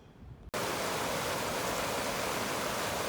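Creek running high after heavy rain: a loud, steady rush of flowing water that starts abruptly after a quieter half-second and then holds constant, broad and close.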